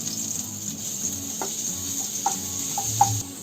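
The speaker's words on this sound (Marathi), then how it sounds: "तो ठेचा मी आता तेलामध्ये टाकते." Crushed cumin and garlic sizzle in about two spoonfuls of hot oil, a faint steady hiss with small pops and stirring clinks, heard alone and fairly close.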